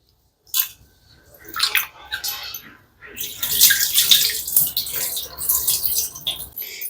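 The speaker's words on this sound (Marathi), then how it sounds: "म्हणून 2-3 पाण्याने हे तांदूळ मी धुवून ठेवते" Rice grains being washed by hand in water, with splashing, swishing and pouring in close, irregular bursts, loud and without talk.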